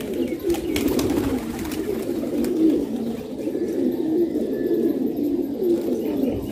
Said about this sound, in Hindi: ये देखें जी माशाल्लाह अच्छे अच्छे कबूतर मौजूद हैं।